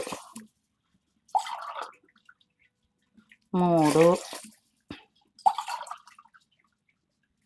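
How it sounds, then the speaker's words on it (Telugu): Water poured from a glass into uncooked rice for prawn pulao: one short, gurgling pour lasting about a second, set between brief stretches of a person speaking. "నాలుగు గ్లాసులు వాటర్ పోస్తాను"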